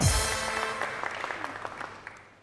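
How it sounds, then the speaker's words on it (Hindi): Audience applause at a television talk show: a burst of clapping that starts full and thins into scattered claps, fading as it goes. "तालियां भाई।"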